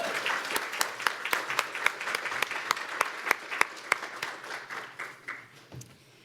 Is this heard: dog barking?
no